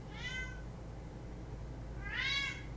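Two clear cat meows, one early and a louder, more drawn-out one near the end, standing out over a steady low background hum with no talking.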